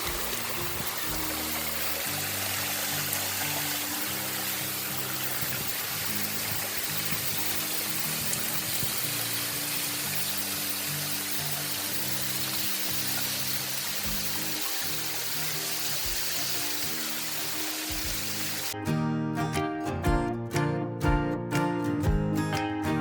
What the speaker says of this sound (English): We made it to the waterfall, the Graceful Falls.